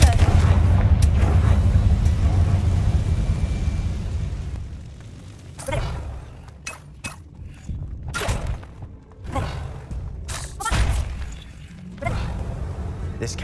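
Confringo, the explosive fire spell in Hogwarts Legacy, goes off in a dark catacomb with booming blasts and crackling bursts, several sharp impacts in sequence over a heavy low rumble, loud and close.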